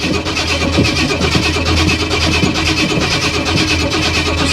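A classic car engine cranks and struggles to start, a steady loud churning of the starter and engine that carries on without break for several seconds, with no talk over it.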